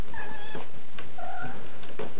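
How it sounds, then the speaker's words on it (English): Cat meows twice in quick succession, close and clear, two drawn-out plaintive calls with no talking. "I heard you meowing."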